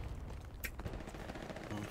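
Gunfire in the World War II shooter Hell Let Loose rattles in several quick, distant-sounding shots with a sharp crack near the middle, faint overall, with someone talking over it.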